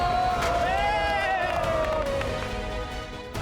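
A crowd of locals cheers for football in Medellín, Colombia, a dense roar of voices with whoops and a raised, sustained shout that rises and falls before easing slightly near the end.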